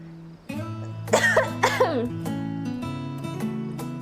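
Several sharp coughs close into a microphone, two clustered bursts followed by a throat-clearing rasp, over steady background music from a game.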